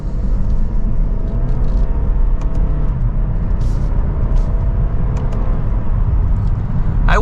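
A 2024 Lexus IS300 F Sport pulls away from second gear, its engine a steady, loud low rumble heard from inside the cabin with continuous road noise and no voices.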